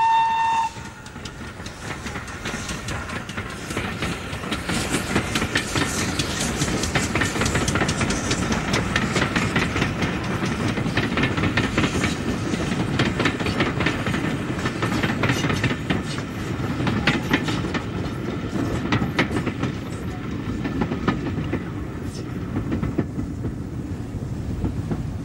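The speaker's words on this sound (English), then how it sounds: "Here, a typical freight is headed by Tyesley's second engine, 7760." GWR pannier tank steam locomotive hauls a freight train, a steady loud rumble of wagons with clanking rail noise throughout, a brief whistle at the very start, no voices.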